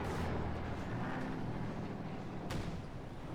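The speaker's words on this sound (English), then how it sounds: "And now he's calling in lots of artillery here" Artillery barrage in a WWII tank battle video game with a Panzer IV, a steady low rumble of distant shell impacts rolling continuously, with a sharper burst near the end.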